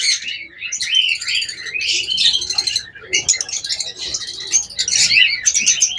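A pair of blue Fischer's lovebirds chattering close by, loud bursts of shrill chirps and squeaks in rapid overlapping phrases with brief pauses, no talk over them.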